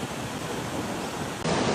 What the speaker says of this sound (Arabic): تجي تريح بلاصه بحال هادي في السماء وتسمع الصوت ديال الامواج